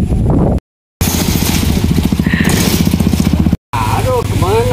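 A motorcycle engine rattles and putters close by as it crosses the Rentang Jatitujuh suspension bridge, running steadily with two brief dropouts, while people talk over it.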